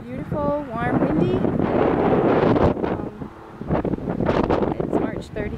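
Gusty wind buffets the microphone in broad, rushing bursts, with a voice speaking and other sounds mixed in underneath.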